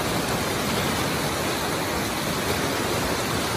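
Fast-flowing floodwater about 30 cm deep rushes over a road in South Sulawesi, a dense, steady roar of churning water with no pauses.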